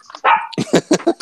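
A small dog yips and barks up close, a drawn-out whine followed by a quick run of sharp, loud barks.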